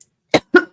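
A person coughs three times in quick succession, loud and close, with short silent gaps between the sharp bursts.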